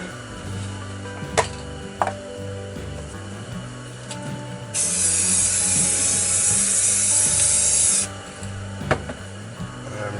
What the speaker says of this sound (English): Take a little bit of clear coat and weten that all up.